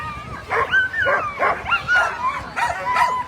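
Sled dogs at the start of a sprint race on 4th Avenue in Anchorage bark and yip excitedly in a rapid string of close, loud, high-pitched calls, with a few whimpers in between.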